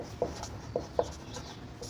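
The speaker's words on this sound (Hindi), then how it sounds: "यहाँ पर मैं सामान्य हिंदी का सिलेबस लिख दे रहा हूँ" Pen or marker writing out a Hindi exam syllabus, giving soft scratchy strokes with a few sharper taps at the start of each word, close and fairly quiet with no voice.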